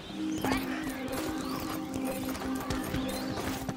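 Horse hooves clip-clop in the Paladins video game, a quick patter of hoofbeats under game noise while players talk over it.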